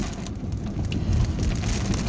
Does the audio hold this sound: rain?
yes